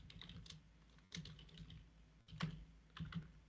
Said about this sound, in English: And then, of course, I didn't finish typing it.